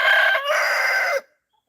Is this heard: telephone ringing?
no